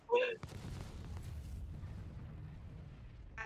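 A sci-fi explosion in the space game Star Citizen during a xeno threat battle: one short burst at the start, then a low rumbling tail that fades slowly, with a faint synthetic tone at the onset.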